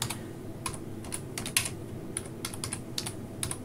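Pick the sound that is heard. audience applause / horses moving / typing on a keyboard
typing on a keyboard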